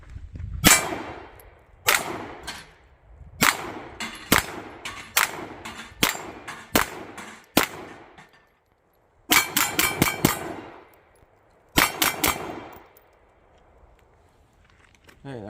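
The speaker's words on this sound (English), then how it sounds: "I'll go ahead and do this first shot double action on the big plate there" Repeated shots from a Ruger P85 full-size 9mm pistol ringing off a steel plate target, sharp cracks each followed by a metallic clang, fired in spaced singles and quick bursts of several at close range.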